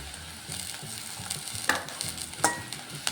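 Ginger garlic paste frying with onions in a little oil for a Telugu amaranth leaves and toor dal curry, a steady close sizzle broken by a few sharp scraping stirs of a spoon against the pan, with no talking.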